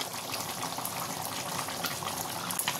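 Tangra fish curry with mustard paste and eggplant bubbling in a pan, a steady close simmering burble with popping bubbles throughout.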